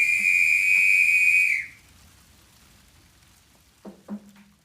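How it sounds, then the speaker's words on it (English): A shrill, steady whistle blown for about a second and a half, then quiet, followed by two short lower chirps. "Whistle."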